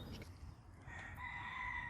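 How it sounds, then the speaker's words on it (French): A rooster crows outdoors on a farm, its drawn-out, strained call rising clearly over a soft background murmur, moderately distant. "le coq que l'on entend"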